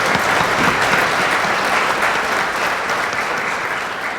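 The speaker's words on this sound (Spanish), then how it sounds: "Yo les pido un fuerte aplauso para ellos." Sustained, dense applause from an audience at a book presentation in Spanish honoring two journalists, steady and loud throughout with no talking.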